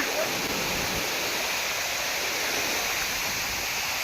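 A steady roar of Kudiyya waterfall near Araku fills the air, constant and fairly loud, with no voices, during rain.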